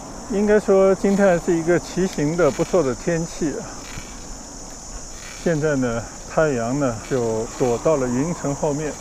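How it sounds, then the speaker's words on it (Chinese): Cicadas drone in a steady high buzz through an open park plaza during a bike ride in Beijiao, Shunde, with someone talking close over the insect noise for most of the time. "听着知了声，迎着微风"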